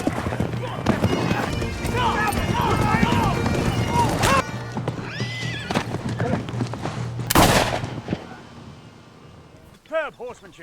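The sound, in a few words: gunshot while hunting deer on horseback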